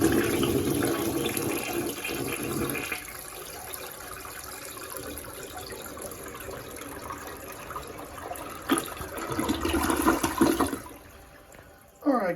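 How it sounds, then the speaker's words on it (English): A toilet in a renovated bathroom flushes with a loud rushing surge of water, then settles into a quieter refill trickle before a final swell of water near the end. "Let's give it a flush and that'll be it."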